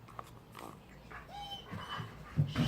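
A dog whimpers indoors with a thin, high whine and a few soft snuffling sounds, faint and close, followed by some low grunting noises.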